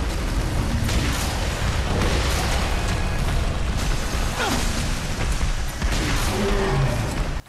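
Continuous explosions and crumbling debris in the video game Red Faction Armageddon, dense rumbling blasts overlapping one another with intermittent sharper bursts, loud and sustained throughout.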